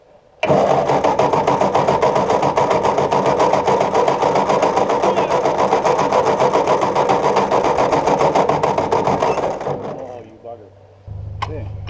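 Engine of a 1954 Ford Golden Jubilee NAA tractor, fed fuel by hand after sitting, bursts into a loud, rapid, steady chugging run for about ten seconds, then sputters and dies, followed by a brief knock and low background rumble.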